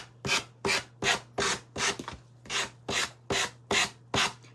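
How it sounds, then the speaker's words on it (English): Fine sandpaper rubbed over wooden edges in ten even, rhythmic strokes, each a close rasping swish separated by short pauses, with a faint steady hum underneath. "Sandpaper is not very rough."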